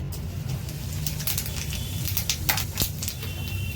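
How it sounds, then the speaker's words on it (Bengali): Cumin seeds crackling and sizzling in hot oil for a Bengali fish curry, a dense steady fry with scattered sharp pops close by. "এবার আমি তেলের মধ্যে একটু জিরে দিলাম।"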